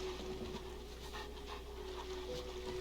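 A dog in a video game panting softly and rhythmically, faint and steady over a quiet background hum.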